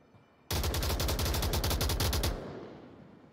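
A long, loud burst of rapid automatic gunfire in the VR shooter Onward rattles at a steady fast rhythm for about two seconds, then cuts off and leaves a fading echo tail, with no voices.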